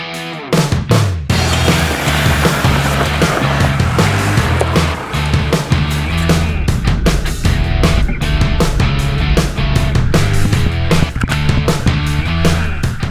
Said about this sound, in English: let's see how this Wrangler performs in the quarry